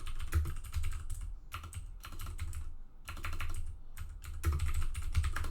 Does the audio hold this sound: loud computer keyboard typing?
yes